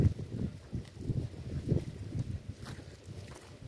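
Gusty outdoor wind rumbles and buffets the microphone in low, uneven bursts for several seconds, with no talking.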